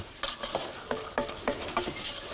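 Ghee and flour roux being stirred in a hot pan, a spoon scraping in a steady rhythm of repeated strokes over a soft sizzle, close and clear with no talking.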